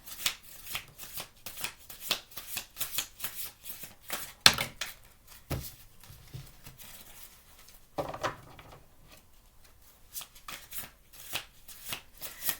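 Tarot cards shuffled by hand in a rapid run of crisp riffling and slapping bursts, close and fairly quiet, with short pauses between rounds.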